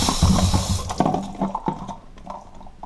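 Water from a loosened toilet shut-off valve rushing and splashing at close range, loud at first and then breaking into uneven trickles and drips as the flow eases.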